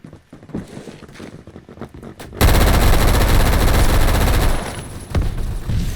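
Sustained loud automatic gunfire from a newly added overpowered gun in a video game, starting after a couple of seconds of quieter game noise and continuing as a dense rapid stream.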